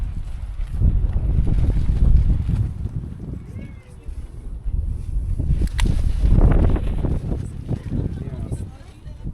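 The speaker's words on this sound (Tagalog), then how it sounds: "Sobrang hangin." Strong wind buffets a cliffside campsite in the mountains, roaring in heavy, uneven gusts close to the microphone, with voices in the mix.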